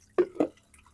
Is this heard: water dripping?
yes